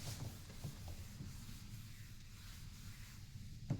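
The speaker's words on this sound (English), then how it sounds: "let me rub this out" Steady scrubbing of a board eraser wiping writing off a classroom board, continuous and close for a few seconds, ending with a light knock.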